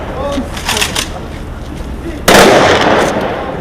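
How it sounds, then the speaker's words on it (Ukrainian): A sharp, loud memorial gun salute volley cracks out suddenly, leaving a rumbling echo, after a few fainter bursts over crowd noise and murmuring voices at a ceremony in Odesa. "на честь загиблих був виконаний зал пострілів"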